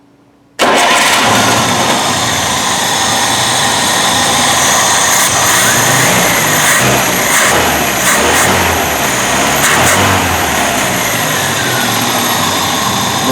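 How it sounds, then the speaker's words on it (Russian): A rebuilt UZAM 1.7 car engine cranks and fires after a moment of quiet, then keeps running at a loud, steady idle close by with a faint high whine, and no voices. "давайте я запущу двигатель"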